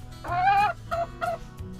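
Hens clucking up close in a henhouse, a drawn-out squawk followed by two shorter clucks over a low background hum.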